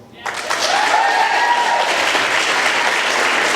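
A women's soccer awards reception audience breaks into applause, the clapping rising abruptly from quiet and holding as a dense, even roar of hands throughout.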